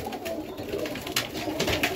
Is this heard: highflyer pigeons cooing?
yes